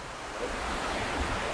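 Water from a relief channel flows over a lowered inflatable hose weir into a retention basin in a laboratory hydraulic model. It makes a steady, broadband rushing and splashing close by.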